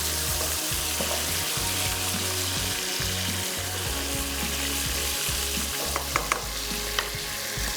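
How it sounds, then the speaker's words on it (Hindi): Chicken sears on high flame in a pan with a loud, continuous sizzle and frying crackle. Occasional stirring clicks and scrapes come through near the end, and no one speaks. "चिकन को हमने सील करना है हाई फ्लेम पे"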